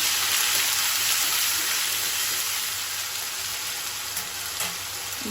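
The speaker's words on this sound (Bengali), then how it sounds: "তেলটা গরম হয়ে গেছে আমি আদা রসুন পেঁয়াজটা দিয়ে দিচ্ছি" Onion, ginger and garlic hit hot oil in a pan, giving a steady, close hiss of frying that holds fairly even throughout with a faint clink near the end.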